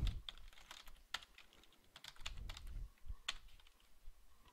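Keys clatter on a computer keyboard in quick, irregular bursts of close, crisp clicks, with a few louder keystrokes standing out and no talking.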